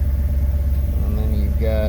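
A 1978 Camaro V8 with Sniper fuel injection catches and settles into a steady, close low rumble, with a voice talking over the engine near the end.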